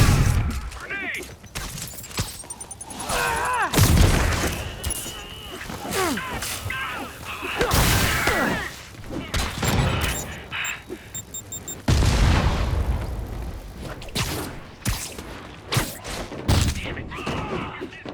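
A grenade explodes amid a fight with Sable agents in Marvel's Spider-Man, with booms and gunfire ringing out in a busy combat mix while voices talk over it.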